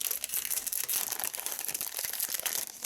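A plastic card-factory packet crinkling and crackling steadily up close as pieces are cut out of it, with brisk rustles and snips filling the whole stretch.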